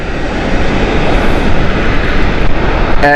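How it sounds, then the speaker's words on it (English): EasyJet Airbus A321 landing at Gatwick, a very loud, close engine roar with thick low rumble and a brief rising whine, sustained through the whole short stretch, ending with a short burst of other noise. "EasyJet Airbus A321 here."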